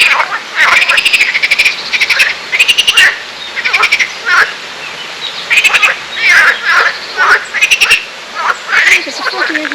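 A chorus of frogs by a rocky riverbed in the rural Ardèche, France, croaks in loud, clustered bursts with brief pauses, calling steadily and close by.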